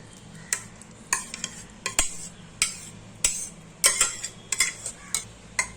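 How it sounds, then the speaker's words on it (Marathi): Boiled vegetables for pav bhaji being mashed in a pan, giving a series of irregular scraping clanks and knocks of the masher against metal, close and fairly quiet, with no talk. "आता मी जरा ह्या मॅश करून घेते"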